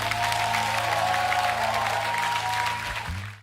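A church congregation applauds steadily and loudly throughout, a dense wash of clapping with a sustained tone running underneath before it fades at the end.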